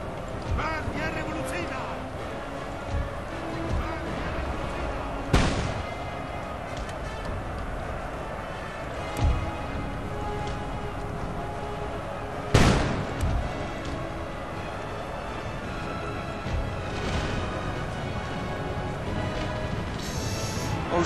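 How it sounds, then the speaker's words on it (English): Cannon fire in a Napoleon Total War battle: a few distant booming shots, spaced several seconds apart, over a busy battlefield din of musketry and movement, with someone talking throughout. "Cannons."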